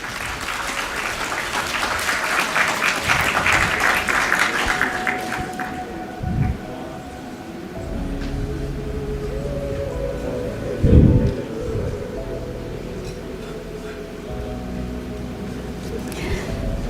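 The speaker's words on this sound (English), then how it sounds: "Sila berikan tepukan gemuruh." An audience at an actuarial summit bursts into dense, loud clapping that lasts several seconds, then dies away into a quieter hall with scattered thumps and murmurs.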